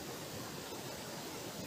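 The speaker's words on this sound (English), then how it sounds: "Let water boil" Water heating on a portable camping gas stove gives a steady, even hiss of burner flame and warming water, faint and unbroken for the whole short stretch.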